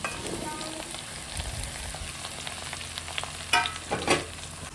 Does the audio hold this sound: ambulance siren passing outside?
no